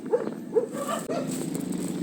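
Dogs barking nearby, two short distinct barks early on followed by a softer third yelp, over a faint background hum.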